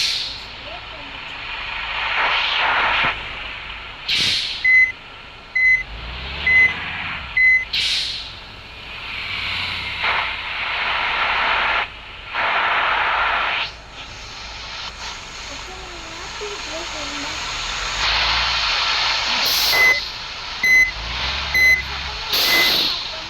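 A truck reverses with its rhythmic high reversing beeps sounding in bursts over steady engine rumble and traffic noise, with short air-brake-like hisses between.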